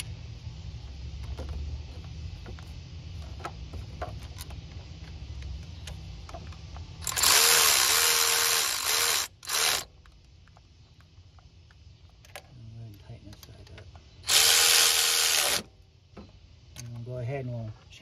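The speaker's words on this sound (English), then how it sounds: "we'll grab our socket that we just had. All right, and we'll tighten those bolts up real quick." A socket wrench tightens bolts during a water pump replacement on a 2007 Cadillac DTS, giving light ratcheting ticks over a quiet background, broken by two louder, harsher mechanical bursts of a few seconds each.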